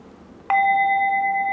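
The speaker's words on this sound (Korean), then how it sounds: "종소리" A single bell struck once, its clear sustained tone ringing steadily and close with no decay, over a faint low room hum.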